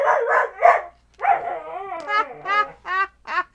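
A dog barks in a rapid series of sharp, varied barks and yips with a wide vocal range, loud and close, with a brief pause after the first few, alone without talk.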